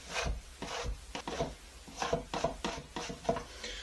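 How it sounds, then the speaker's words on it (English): A spatula scrapes sticky biga pizza dough off the sides of a bowl, giving quiet, irregular rubbing and scraping strokes in short bursts. "you could use a spatula as well, and then release at first everything from the side"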